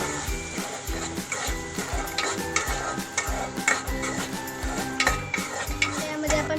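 Tomato paste goes into browned onions in a pan for a Marathi home dish and is stirred. A spoon scrapes and clinks in a steady rhythm over a soft sizzle, close and moderately quiet, with no talk.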